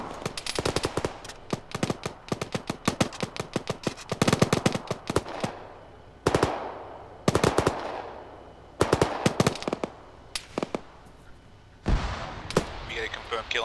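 Machine guns fire in the military video game Arma during a ShackTac session: long rapid bursts at the start, then separate short volleys spaced every second or two, loud and close, with voices talking in between.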